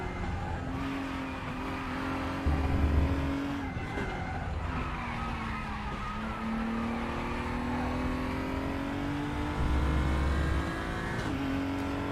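A BMW race car in RaceRoom Racing Experience holds a steady, close engine drone that rises and dips through corners, with tires squealing and skidding at intervals.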